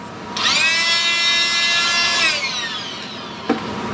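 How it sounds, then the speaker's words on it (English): A small air blower whines loudly as it blows powder coat off a laser-etched part, a steady high-pitched rush for about two seconds that then winds down, followed by a light knock. "I shall just get my little air blower"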